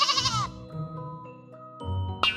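A sheep bleats in a toddler's alphabet flashcard sequence: two quavering, harmonic bleats, near and fairly loud, with a soft musical tone sustained in the background between them.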